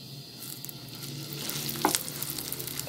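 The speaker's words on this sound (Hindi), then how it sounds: "और ये ज़ीरा भून रहा है" Cumin seeds roast in a pan with a quiet steady sizzle, close by, with a brief scrape or rattle partway through and faint crackles.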